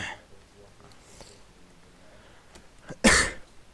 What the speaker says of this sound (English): Sorry, bit of a cough there.